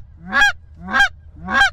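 Canada geese honking as a pair cups in toward decoys set over water during a hunt, three loud, clear calls spaced evenly at close range.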